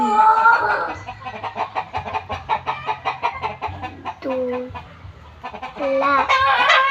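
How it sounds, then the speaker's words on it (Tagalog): A chicken clucks and calls in a rhythmic series of short, fairly close notes, with a few longer bird-like cries, alongside faint other sounds. "Unsa nang number 1? Manok."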